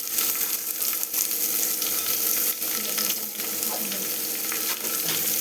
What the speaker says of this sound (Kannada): ಸ್ವಲ್ಪ ಜೀರಿಗೆ, ಈರುಳ್ಳಿ ಹಾಕೋತಾ ಇದ್ದೀನಿ